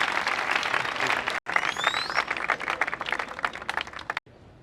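A rally audience claps and cheers in a dense, steady wash of applause, broken by a brief cut and trailing off into a quieter tail.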